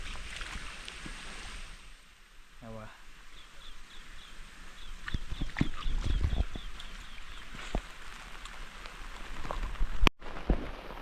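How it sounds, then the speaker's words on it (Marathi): Light rain patters softly and steadily across an outdoor rural setting in Konkan after a heavy downpour, with faint bird chirps and scattered sharp drips over the wash. "परत बारीक बारीक पावसाला सुरुवात झालेली आहे बघा"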